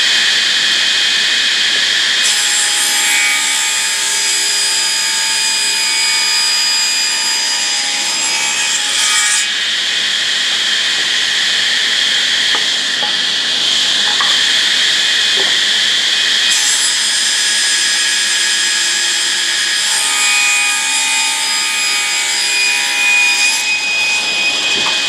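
A saw cuts steadily through wood joined with glued dowels, making a continuous gritty rasp with shifting whining tones as the blade works, loud and close with no talking.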